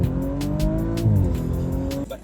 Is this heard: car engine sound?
yes